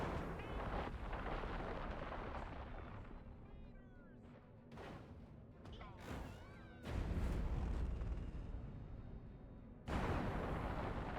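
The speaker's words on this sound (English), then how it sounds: "It has a blast wave that destroys everything" Quantum Deconstructor saucer weapon firing its blast wave in Destroy All Humans, tearing through commercial buildings in Santa Modesta; a dense roar of booming explosions and rumbling destruction, with sharp bursts and crashes that swell loud again near the end.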